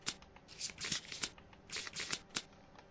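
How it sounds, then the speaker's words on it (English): Someone shuffles a deck of cards for the board game Kingdom Death, with several quick riffling bursts in close, crisp succession, nearby and alone. "so let's shuffle these up"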